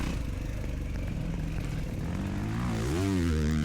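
An enduro dirt bike passes at speed, its engine buzzing loud and close and rising in pitch before sweeping past with a clear Doppler drop near the end, over steady engine drone, with no talk.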